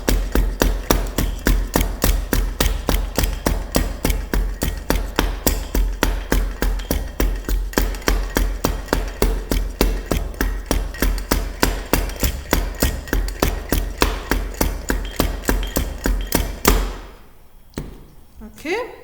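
Rapid, evenly spaced hammer blows compact a layer of sand while a shear test sample is prepared. Dozens of sharp, loud thuds repeat steadily for about seventeen seconds before stopping, followed by a brief quiet rustle.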